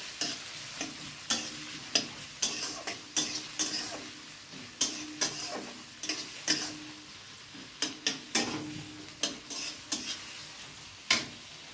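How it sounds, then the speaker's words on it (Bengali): A potato filling fries in a pan while a metal spatula stirs it, giving crisp repeated scrapes and knocks in a loose rhythm over a low sizzle, heard up close without any voices. "তারপরে আলুটা ফেলে তারপরে একটু খুন্তি দিয়ে ভালো করে নেড়ে চেড়ে নিতে হবে।"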